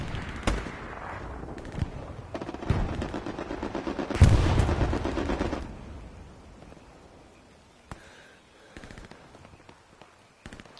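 Gunfire in Hell Let Loose on PS5: sharp repeated shots and bursts, some close and loud, others distant, with a heavier blast and rumble midway, fading to sporadic far-off pops.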